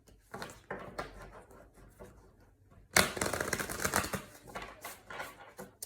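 A tarot deck is shuffled in rapid riffling bursts, crisp papery flutters close up, with one loud extended shuffle in the middle.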